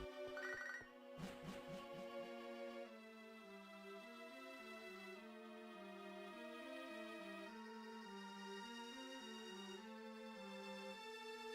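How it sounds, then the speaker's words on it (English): A phone ringtone for an incoming call plays continuously, a bright electronic melody of repeating tonal notes over a steady beat, fairly faint and with no talk over it. "Getting a phone call."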